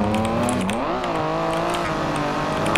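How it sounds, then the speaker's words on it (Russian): An old BMW's engine revs in the BeamNG Drive driving game, a loud steady drone whose pitch dips and then climbs as the throttle changes, with no break throughout. "Звук мотора чисто четкий тоже"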